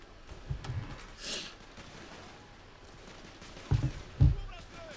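A few sharp gunshot bursts in a video game crack out over a low steady background, spaced apart with quiet stretches between them.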